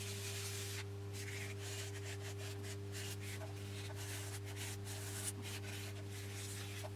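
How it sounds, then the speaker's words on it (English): A wooden USB stick is hand sanded with detail sanding sticks, giving quick repeated rasping strokes that are close and quiet over a constant low hum. "I now just need to finish it off by hand sanding. And I'm using my detailed sanding sticks."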